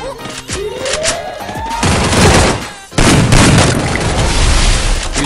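Video game shotgun blasts thud out close and loud as heavy booming bursts, one near the two-second mark and another around three seconds. Rapid gunfire crackles around them and excited voices talk over the action.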